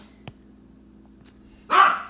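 A pet dog gives a single sharp bark near the end, fairly close, after a quiet room with a low steady hum.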